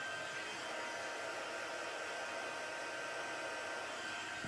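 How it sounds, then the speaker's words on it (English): A craft heat tool used for embossing blows with a steady, loud, close hiss-like whir that holds even from start to finish, with no talk. "I'm going to get the heat tool and we're going to heat it up and do some embossing"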